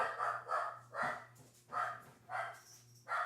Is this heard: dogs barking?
yes